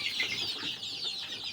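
Native hens cluck steadily close by in a coop, a dense overlapping chorus of soft clucks with no talking.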